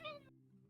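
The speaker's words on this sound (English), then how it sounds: "There's also a cat in the forest." A cat meows once, close and clear, the short call fading quickly into a low background hum in a quiet forest setting.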